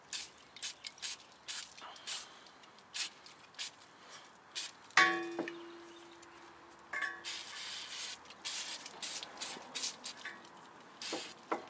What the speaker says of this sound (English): spray it a little bit